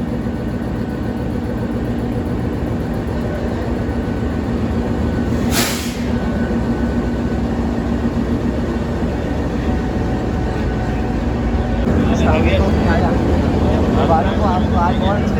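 The Thar Desert Safari Train, led by Pakistan Railways locomotive GU20 4557, rumbles with a loud steady low drone and hiss, a brief high whine partway through, and voices talking over the noise.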